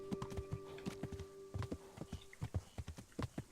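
Horse hooves clip-clop in an uneven, rapid rhythm in the medieval game Kingdom Come: Deliverance, with a faint tonal hum behind them.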